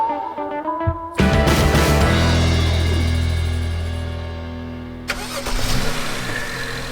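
A BMW E92 335i is cranked and fires up with a loud, close start, settles into a steady idle that slowly eases down, then gets a brief blip of revs near the end.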